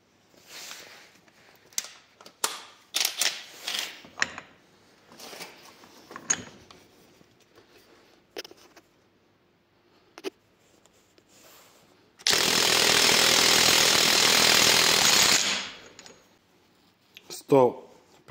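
A Parkside Performance PDSSAP 20 Li D3 cordless impact wrench starts with scattered handling clicks and taps, then runs for a single loud, dense, rattling burst of about three seconds before stopping.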